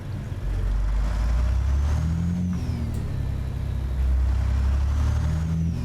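A truck engine in American Truck Simulator, a Peterbilt-style Ruda 379 hauling an 80,000-pound grain hopper, roars and revs up and down after a missed gear, a close, loud, low droning with rising and falling pitch and no talking.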